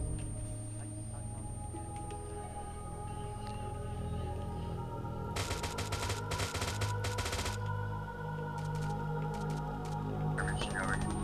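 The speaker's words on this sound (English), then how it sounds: "that contact from the tower shooting at us now" Gunfire from an enemy in a tower, Arma 3 with a Halo mod: a dense, loud burst of rapid automatic shots over a steady engine-like hum, with brief talk in between.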